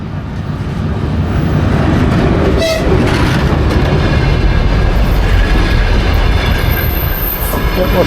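A Ukrainian train rumbles past close and loud with a steady roar of wheels, clattering over rail joints with some squealing, and a brief horn-like tone partway through.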